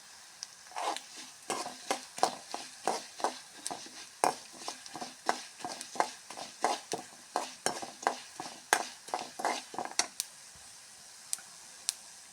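Asafoetida tempering in hot oil for a drumstick saaru, a steady run of sharp crackles and pops sounding about every half second over a faint sizzle, close and fairly loud, with no talking.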